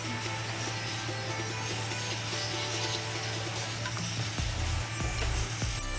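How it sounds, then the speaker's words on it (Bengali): A milk-based arum-stalk curry is stirred in a pan, a dense, continuous scraping and sizzling texture with faint clicks, close and steady, that thickens slightly toward the end. "লিকুইড দুধ বা গুঁড়ো দুধ দিলেও এর মধ্যে হবে দিয়ে আমি ভালো করে নাড়াচাড়া করে নিচ্ছি"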